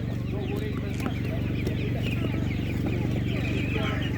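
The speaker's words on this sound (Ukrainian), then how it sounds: "Несучки такі." Laying hens clucking amid a busy animal market, with continuous overlapping clucks and fowl calls over a steady low hum and crowd murmur, with voices talking in the background.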